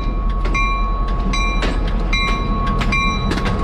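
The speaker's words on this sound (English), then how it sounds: "As we anticipate the train coming by, we saw it go out, and now here it comes back." A train rolls past a summer flea market, steady rumbling rail noise with recurring bright tonal squeals or horn-like bursts rising over a continuous loud wash, fairly close.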